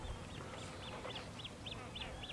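A black duck quacks repeatedly in a steady series of short calls, faint and distant over constant outdoor background noise, in Sloviansk.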